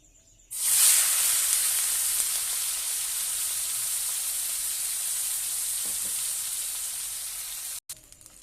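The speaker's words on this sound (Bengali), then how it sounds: "তেলটা গরম হয়ে গেছে, চিংড়ি মাছগুলোকে দিয়ে দেবো।" Prawns go into hot oil in a wok for a prawn malai curry. A sudden loud sizzle bursts out and holds as a steady hiss for several seconds, then cuts off.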